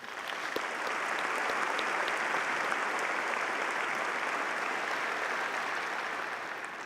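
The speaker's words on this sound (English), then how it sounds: "Let's have a round of applause for this group." Applause at a fall graduation ceremony swells quickly from a crowd of many hands, holds steady as a broad, fairly distant wash, and begins to fade at the end.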